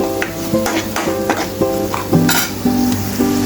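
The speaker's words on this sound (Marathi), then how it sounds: "व्यवस्थित अशी ही फोडणी परतून घ्यायची आपण" Spiced tempering with chili and garam masala sizzles in a pan for amti, a spoon stirring and scraping through it in steady strokes with clinks against the metal; loud and close, no voices.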